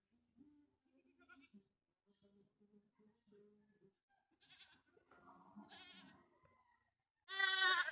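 A mother goat on a small goat-raising farm gives one loud, harmonic bleat near the end, following several seconds of faint, scattered low sounds.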